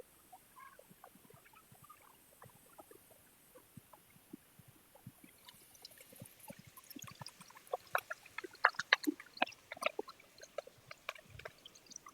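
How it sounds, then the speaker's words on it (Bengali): Mustard oil poured into a pan already holding green chillies and sliced onion, beginning as a faint trickle and turning into denser crackling and spattering as it hits the hot pan, close by with no speech. "এবারে আমি দিয়ে দিব সরিষার তেল।"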